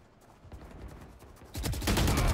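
Valorant gunfire crackles in short bursts in the video game, starting fairly quiet and growing into a louder, denser volley toward the end.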